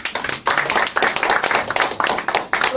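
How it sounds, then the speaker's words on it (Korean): Audience at a lecture event clapping in thanks to a pastor, a fairly close, rhythmic burst of many hands with individual claps audible in a steady beat for a few seconds. "감사의 박수를 올리겠습니다."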